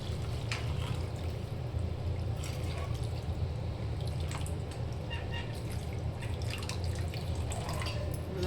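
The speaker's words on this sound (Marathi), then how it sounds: "आता आपण याच्यात पाणी टाकून घेऊया" Water pours steadily into a cooking pan already seasoned with salt, for a dry sev dish, with a continuous close trickling and splashing that runs unbroken throughout.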